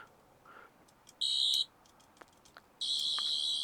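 Two bright electronic tones from a Nawya replica of the 12th Doctor's sonic screwdriver, torch feature, each a steady shrill buzz lasting under a second, the second longer, close and loud over a quiet room with faint clicks.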